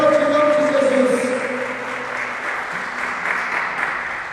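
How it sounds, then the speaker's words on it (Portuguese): A church congregation applauds together, a broad steady wash of clapping that holds fairly loud throughout, with a voice speaking over the start before the clapping carries on alone. "Pode aplaudir, igreja. Pode aplaudir em nome de Jesus."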